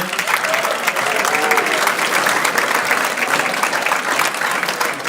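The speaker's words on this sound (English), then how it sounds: "So, everyone, can you give them a huge round of applause for making them happy to be here?" Loud, dense applause from a convention audience at a lunch presentation during the SHAPE Colorado Convention, a continuous wash of many hands clapping close by with crowd noise mixed in, sustained evenly throughout.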